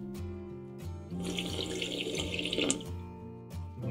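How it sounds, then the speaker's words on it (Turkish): A repaired faucet runs after the main valve is opened, a steady rush of water splashing into a sink, rising in the middle and continuing alone under a faint background hum. "Açıyoruz ve musluğu kontrol ediyoruz."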